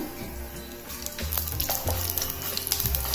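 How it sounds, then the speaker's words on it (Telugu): Mustard seeds, chana dal and urad dal sizzle and crackle in hot ghee, a steady busy frying hiss with small pops throughout, close and fairly loud. "శనగపప్పు 1 పావు స్పూన్, మినపప్పు 1 పావు స్పూన్ వేసాను."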